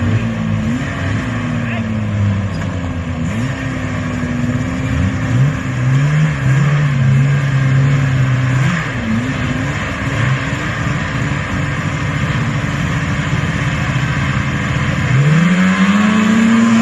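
Vintage snowmobiles in a grudge race, engines revving and whining loudly with rising and falling pitch as sleds pass, continuous and close, with commentary voices over the top.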